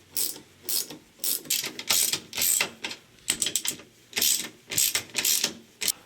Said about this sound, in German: Dann ziehen wir jetzt an alle Schrauben langsam bei.